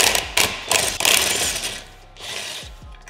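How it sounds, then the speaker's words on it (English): A ratchet spinning 12-point bolts on the prop shaft of a VW Passat R36, with repeated close mechanical clicking bursts and short pauses between them, loud and alone. "I opted to use a ratchet to help spin it around each time before impact gutting them out"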